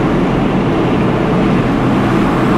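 A Nissan Skyline fitted with an HKS pod filter roars at high revs, a loud, steady, dense engine and intake drone held hard with no break through the whole stretch.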